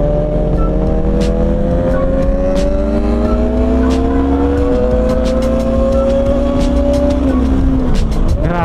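A Yamaha MT-07 motorcycle passes close by, its engine note rising and sliding in pitch over a steady roar of other motorbike engines, loud throughout.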